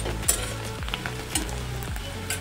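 Chopped large onion frying in oil with garlic and ginger paste, a continuous close sizzle broken by regular scraping strokes of a spoon stirring in the pan.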